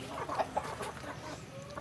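Chickens cluck softly and close by as they are fed corn bran, short throaty calls over a quiet background.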